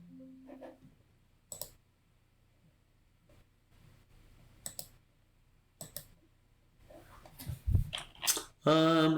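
Mouse button clicks on a spreadsheet in Excel running a Minesweeper game, a few sharp isolated clicks spread apart, followed by a louder burst of rising electronic game sounds at the end.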